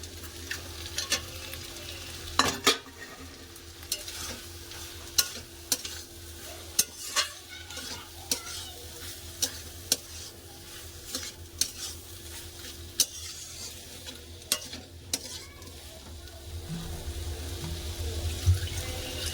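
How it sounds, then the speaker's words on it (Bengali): Fried fish head cooking with ground cumin paste in a pan, a low sizzle under repeated sharp scrapes and knocks of the spatula at irregular intervals, close and without talking. "জিরা দিয়ে মাছের মাথা দিয়ে ভালো করে কষে নিয়েছি"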